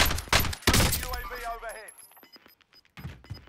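Rapid bursts of gunfire in Call of Duty Warzone crack out loud in the opening second, then thin to scattered shots and clicks as someone talks over the game sounds.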